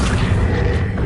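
A spell cast in Hogwarts Legacy lands as a deep, loud rumbling boom with a magical whoosh, sustained for about a second with no talking.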